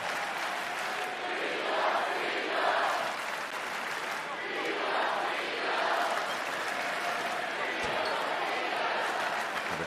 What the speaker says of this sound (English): The crowd is chanting for Peyton Siva